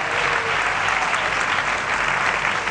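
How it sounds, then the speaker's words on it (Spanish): Dense, sustained applause from a congregation at a church service, loud and even from start to finish with no pauses. "Dale un aplauso al Rey."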